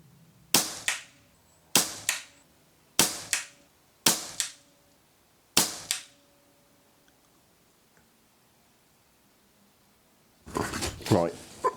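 Weihrauch HW77 air rifle fired five times in a steady series, each shot a sharp crack with a short decay, spaced about a second apart; a burst of louder handling noise follows after a pause.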